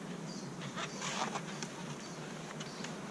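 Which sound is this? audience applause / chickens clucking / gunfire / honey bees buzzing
honey bees buzzing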